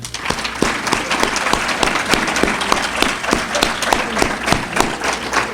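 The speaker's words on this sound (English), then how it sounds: "how about a round of applause for that?" Steady, dense applause from the audience at a high school all-sports awards night, with sharp individual claps standing out in a continuous wash of clapping.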